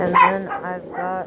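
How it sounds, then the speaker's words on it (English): Dogs bark and yip in a home, with a couple of close, high-pitched barks and a whimpering tail, heard alongside a man's brief speech. "sorry about my dogs."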